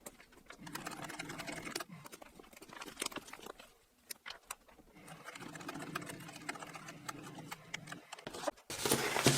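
A sewing machine stitches through an insulated lunch bag, giving quiet, steady mechanical chatter in bursts with brief pauses, nearby and faint, with a louder rustle at the end.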